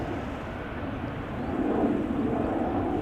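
A fifteen-year-old China Southern Cargo Boeing 777 freighter takes off from Schiphol's Polderbaan, a low, distant jet roar that thickens and grows slightly louder partway through, steady and without voices.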